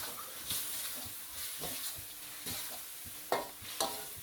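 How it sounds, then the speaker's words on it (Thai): Catfish stir-frying with dried chili and seasoning in a hot pan, a steady sizzle with repeated scraping and clinking stirring strokes, close and moderately quiet, without talk. "ผัดทุกอย่างให้ส่วนผสมละลายให้เข้ากันให้หมดเลยนะครับ"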